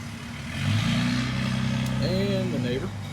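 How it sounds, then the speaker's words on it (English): A neighbor's big diesel truck rumbles nearby, its engine swelling louder and holding a steady drone, with a brief higher whine of edging equipment near the end. "edging and driving a big diesel truck"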